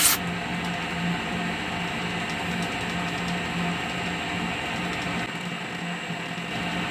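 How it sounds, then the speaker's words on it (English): Colchester Chipmaster metal lathe running alone at a steady mechanical hum, cross slide backed out and motor reversed between thread-cutting passes, with a faint ratcheting rattle throughout. "I'm just going to back out with the cross slide now, reverse the motor, take the next pass"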